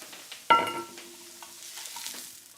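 Onions dropped into a pan for a Toronto sandwich topping land with a sudden sharp clatter, then settle into a faint, thin sizzle with a few light knocks of stirring.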